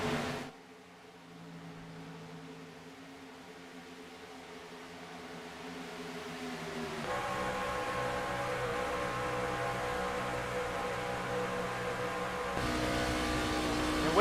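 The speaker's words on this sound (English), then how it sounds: "listen to these iRacing trucks as they go around the iRacing Speedway" Racing trucks in the iRacing video game lapping the iRacing Speedway, a steady layered engine drone that builds and thickens as the pack draws nearer, with a sharper shift in pitch partway through and no talking.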